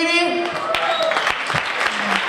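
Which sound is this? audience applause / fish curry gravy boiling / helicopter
audience applause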